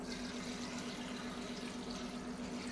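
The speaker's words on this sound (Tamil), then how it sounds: "எவ்வளோ தேவையோ அவ்வளோ தண்ணி நம்ம ஊற்றிக்கணும்" A steady stream of water runs into a pot, a constant rushing splash over a low hum, close and even for a few seconds.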